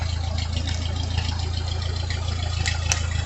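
A tractor engine idles steadily while homemade forks are positioned, giving a continuous low, even rumble throughout with no talk over it.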